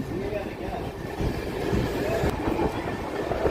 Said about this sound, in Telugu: సెవెన్ 47కి కడప నుంచి మన ట్రైన్ అయితే బయలుదేరిపోయింది